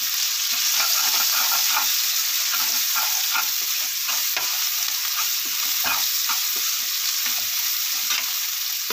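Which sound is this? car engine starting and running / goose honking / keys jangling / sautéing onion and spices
sautéing onion and spices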